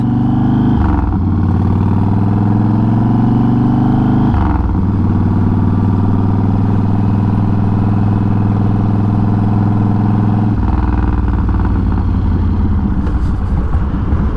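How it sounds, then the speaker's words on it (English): A project motorcycle engine runs loud and close, holding a steady throaty idle broken by a few quick revs and dips, with a rougher rev near the end. "That's a nice sounding bike though."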